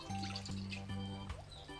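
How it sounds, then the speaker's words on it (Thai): Fish sauce is poured into a spicy mixed-mushroom salad, making a faint, soft liquid trickle and splashes over a quiet background hum. "เทน้ำปลาลงไปอันดับแรกเลย"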